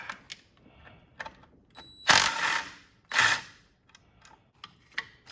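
A ratchet works loose bolts on the engine bracket of a 1987 Buick Turbo T Grand National. There are quiet clicks and two louder bursts of ratcheting close by, with pauses between them.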